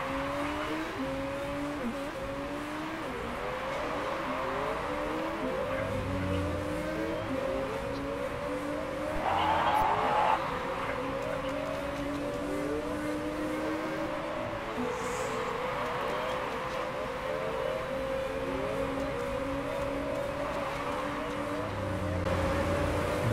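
Race car engines from the Motorsport Manager racing game drone and whine through gear shifts, with several cars overlapping in a continuous, steady rising-and-falling pattern around the Guildford circuit.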